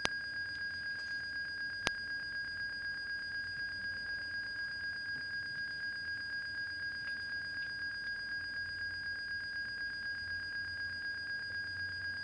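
A cockpit flaps warning alarm in a flight simulator game sounds as a steady, unbroken high electronic tone, held level throughout behind a faint background hum, with one brief click early on.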